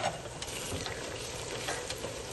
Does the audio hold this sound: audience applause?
no